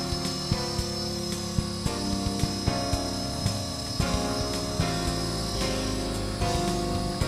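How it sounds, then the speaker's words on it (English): Blade SR radio-controlled helicopter flying in a front yard, a steady high motor whine and blade drone with small regular pulses, loud and close, alone without talk. "we definitely cut our teeth on these old helicopters"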